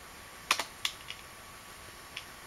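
A few sharp, separate clicks of keys on a computer keyboard, several quick presses near the start and one lone tap later, nearby and clear with no talk.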